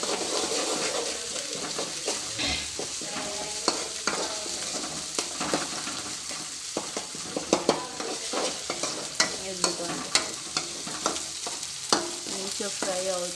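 Ginger garlic paste fries in a pan for a potato curry, a steady close sizzle punctuated by frequent sharp scraping stirs and clinks throughout, with no one speaking.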